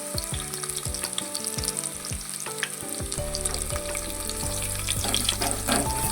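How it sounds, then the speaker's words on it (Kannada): Onions fry in a tempering with cumin and curry leaves, a constant crisp sizzle with light stirring, close by, while rhythmic background music plays underneath and grows fuller midway. "ಆನಿಯನ್ಸ್ನ ಫ್ರೈ ಆಗಲಿ ಚೆನ್ನಾಗಿ ಸ್ವಲ್ಪ ಗೋಲ್ಡನ್ ಬ್ರೌನ್ ಬರೋಷ್ಟು ಫ್ರೈ ಆಗಲಿ"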